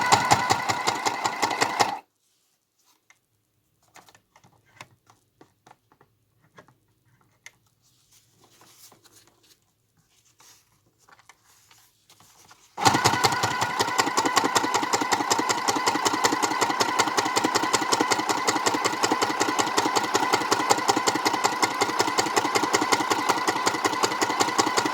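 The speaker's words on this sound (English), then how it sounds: "So let's go ahead and sew this." A sewing machine stitches a fabric clutch with a steady, rapid motor whir and needle patter. It runs briefly, stops for a quiet stretch with faint handling clicks, then resumes loud and continuous close by.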